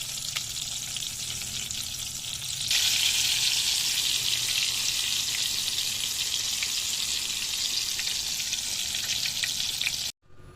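An eggplant omelette fries outdoors over charcoal, its steady close sizzle swelling louder partway through and holding as a continuous crackling hiss before cutting off abruptly near the end.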